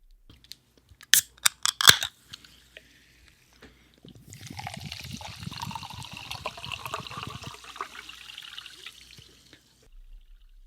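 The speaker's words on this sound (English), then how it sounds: "So let's crack open Hop Water for the World." A can of Hop Butcher Hop Water is cracked open with a few sharp metallic clicks and a hiss, then after a pause the liquid pours steadily with bubbling and fizz for several seconds, close and quiet.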